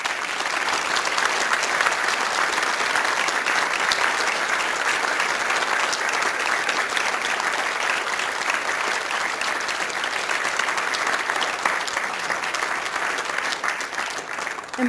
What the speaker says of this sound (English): Can I ask our nominees to please stand up for a huge round of applause?